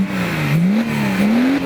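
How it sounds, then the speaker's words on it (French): A powerful engine fitted with an accessory exhaust silencer revs steadily near and loud, its pitch rising and falling slightly over a couple of seconds, with no talking. "Tu vas voir le bruit avec le silencieux."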